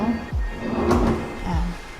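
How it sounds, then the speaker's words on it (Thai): A soft-close drawer in a luxury home's built-in cabinetry slides open and shut, with two low rumbling glides and a soft thud between them, heard close up. "ก็จะมีลิ้นชักนะคะ ไว้เก็บของ"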